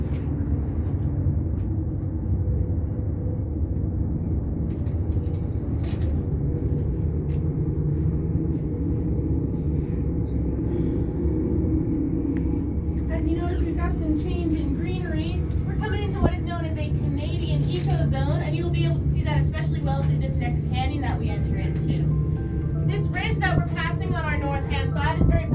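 A Sandia Peak aerial tram car travels along its cables with a steady, loud, low mechanical rumble and hum, heard from inside the car throughout, while people talk and chatter over it.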